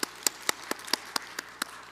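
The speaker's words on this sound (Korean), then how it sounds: "또 하늘 영광의 박수 한번 올려드리고" During a Korean Presbyterian church's Wednesday online worship service, crisp individual claps ring out in a steady, evenly spaced rhythm, about nine in a row, fairly near and distinct against a quiet room.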